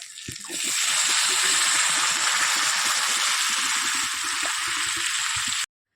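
Water poured into a pan of tangra fish frying in spices, a loud, steady hissing sizzle with bubbling crackle that holds for several seconds, then cuts off abruptly.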